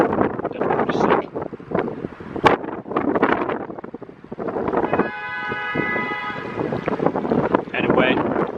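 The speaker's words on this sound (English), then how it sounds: "it's so super windy here." Strong wind buffeting an outdoor microphone in irregular loud gusts and rumbles, with a sustained horn-like tone partway through and a voice talking briefly between gusts.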